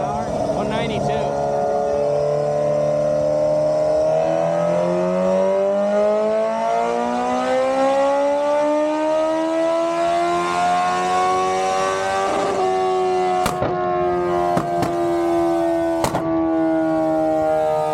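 A superbike with an AK tune revs hard on a dyno, a long, loud rising engine wail that climbs steadily for about twelve seconds, then drops and holds lower, ending with a few sharp clicks.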